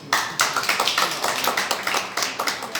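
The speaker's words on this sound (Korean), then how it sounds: "박수 한번 보내주세요." Audience applause at a Korean national prayer breakfast, a lively burst of many hands clapping in quick, rhythmic waves, loud and close throughout with no talk over it.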